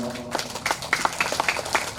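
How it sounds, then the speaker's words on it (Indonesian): A small crowd claps at an outdoor government launch event for waste management facilities, a loose patter of hand claps that rises briefly and fades within a couple of seconds. "tepuk tangan Pak"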